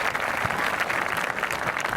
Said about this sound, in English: Let's give another round of applause to our valedictorians